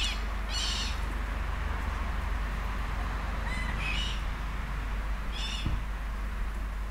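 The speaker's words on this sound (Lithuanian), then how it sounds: "gražus paukščiai." Birds call outdoors in Chile, with three short raspy bursts spaced a few seconds apart, moderately distant over a steady wind-like background rumble.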